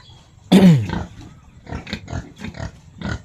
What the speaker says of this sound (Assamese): এইখিনি মোৰ গাহৰিখিনি বৰ্তমান আছে